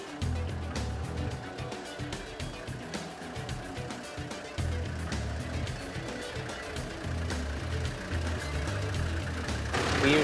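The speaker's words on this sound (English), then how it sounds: "we pull away steadily and increase our speed as we go up the hill" A 4x4 vehicle climbs a hill in second gear, its engine holding a steady low drone that swells slightly as it pulls away and gathers speed.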